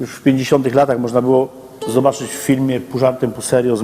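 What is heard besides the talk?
No distinct noise like a dog, phone or traffic.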